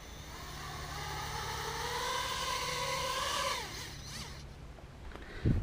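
Quadcopter electric motors spinning up at take-off: a steady whine rising slowly in pitch, then cutting out abruptly, followed by a brief clunk near the end.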